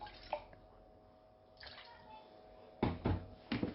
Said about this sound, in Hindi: सबसे पहले पानी डालें आप